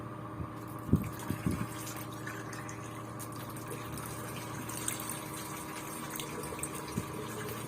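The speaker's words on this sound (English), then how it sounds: "I add ferrous sulfate directly on the iron, and then I just add some water." Water is poured into a beaker of iron pieces and ferrous sulfate in a lab. It gives a faint continuous trickle over a steady background hum, with a few soft clinks near the start and end.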